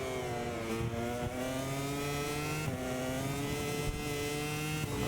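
A motorcycle engine in the racing game MotoGP 24 holds a loud, droning whine with shifting harmonic tones that rise and dip as it revs, with no speech over it.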